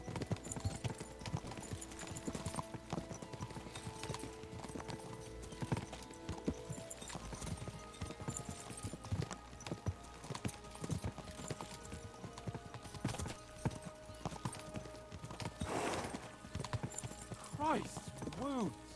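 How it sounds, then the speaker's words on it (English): Horses gallop with steady rapid hoofbeats through a medieval setting in Kingdom Come: Deliverance 2, under music and voices, with a horse whinnying near the end. "We should spur the horses on."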